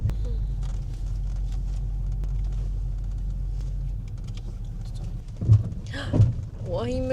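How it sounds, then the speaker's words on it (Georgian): A car engine straining on a mountain road near dusk, a steady low rumble with brief louder surges toward the end and voices talking over it. "ვაიმე, ღმერთო რა ხმები აქვს მანქანას."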